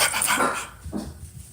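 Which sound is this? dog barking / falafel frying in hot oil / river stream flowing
dog barking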